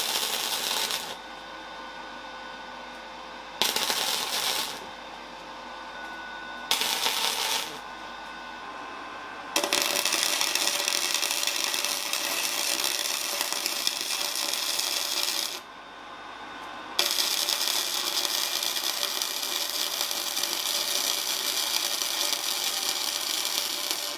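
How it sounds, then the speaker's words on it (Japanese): Welding to fill holes and rust pits in the oil pan of a Caterham Super Seven, a steady crackling, hissing arc in long bursts broken by short pauses, loud and close with no talk. "こういうの全部溶接でちゃんと埋めていきます。"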